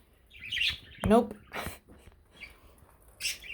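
Pet budgies give brief chirps and squawky calls in short bursts at close range, trading off with a person speaking softly between them.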